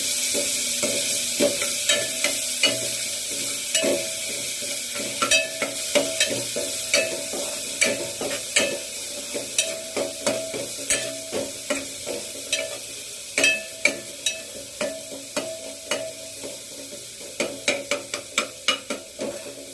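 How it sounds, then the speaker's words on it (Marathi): Spices sautéed in hot oil in a pan for a prawn curry, with a steady sizzle and repeated sharp scrapes and clinks of a spoon stirring throughout, close and fairly loud, no voices. "व्यवस्थित तेलामध्ये मारून घेऊ"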